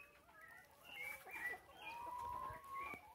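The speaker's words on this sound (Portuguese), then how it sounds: "As galinhas estão tudo por aqui." Free-range laying hens on a rural farm near a corral, clucking and calling steadily for a few seconds, fairly close with overlapping bird voices and no talk.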